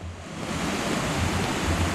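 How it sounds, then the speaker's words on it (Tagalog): Strong stream water rushes steadily and fairly close, a continuous broadband roar of current flowing over rocks in a provincial mountain setting, with no voices. "Ang lakas ng agos ng tubig"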